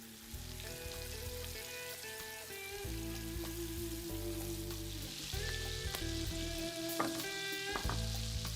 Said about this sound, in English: All I do is fry these zeppelin-shaped patties in olive oil over highish heat